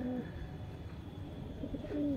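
Pigeons coo in low, soft calls, one brief coo at the start and another near the end, heard faintly over a quiet background hum.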